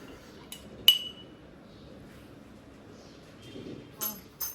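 Utensils clink against a cooking pot during stirring in a home kitchen, with a sharp clink near the start and a few more toward the end, over a low, quiet background.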